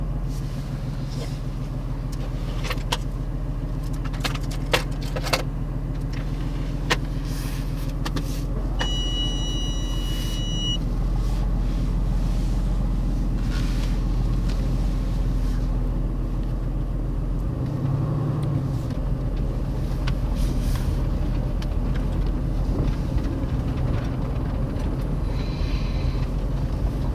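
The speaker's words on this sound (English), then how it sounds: "this will be a night drive with the AMG" A 2018 Mercedes-AMG GT C Roadster cruising on a night drive, its engine and road noise forming a steady, fairly quiet low rumble throughout, with a few faint clicks and soft speech.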